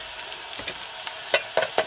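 Smoked sausage sizzles in a small Trangia camping pan, with a soft frying hiss broken by several short clinks and scrapes as it is moved around.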